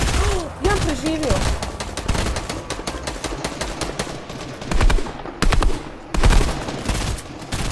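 Rapid automatic gunfire rattles in loud bursts in a video game shooter, with short pauses between volleys and a voice talking underneath.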